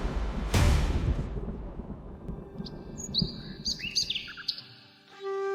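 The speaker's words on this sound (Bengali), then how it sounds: "পাখির ডাক শোনা যাচ্ছে।" Small birds chirp and tweet at dawn in several quick, bright calls, close and fairly clear, following a heavy rumbling burst at the start.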